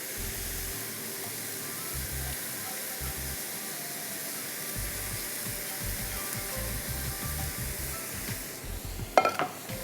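Szechuan sauce goes into a pan of frying prawns and vegetables, giving a steady, moderate sizzle with intermittent scraping and stirring thumps and a louder clatter near the end.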